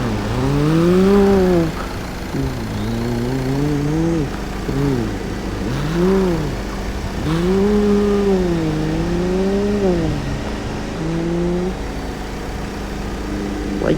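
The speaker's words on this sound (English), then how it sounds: "Like the Duramax engine." An engine compared to a Duramax, revving up and down in repeated rising and falling pitch sweeps, loud and close with a steady low rumble underneath.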